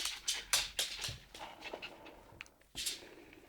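A female West Highland White Terrier pants in quick breathy bursts close by, with faint whimpers mixed in, no voices over it.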